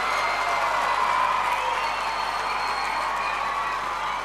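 Schoolchildren keep clapping for themselves in a hall, a steady wash of many hands at moderate loudness that eases slightly toward the end, with a faint mains hum beneath.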